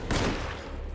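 A pistol gunshot in the horror video game Alone in the Dark, one sharp loud burst with a booming decaying tail heard alone.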